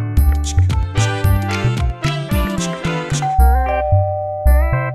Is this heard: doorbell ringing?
yes